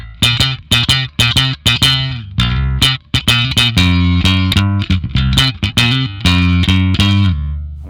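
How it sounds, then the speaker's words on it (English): Bass guitar run through an Ampeg SVT amp plugin with the speaker cabinet horn switched in, giving a loud, bright, twangy tone; plucked notes in a quick rhythmic line with sharp attacks, played alone. "add the horn from the speaker cabinet, which is going to give you a lot more high-end twang"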